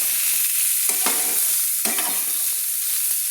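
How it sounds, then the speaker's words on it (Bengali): Cauliflower with a half spoon of turmeric is stirred in a frying pan, a soft steady sizzle punctuated by two or three scraping sweeps of the spatula, nearby and without voices. "দিয়ে আমি ফুলকপিগুলোকে সুন্দর করে আমি নেড়ে নেব"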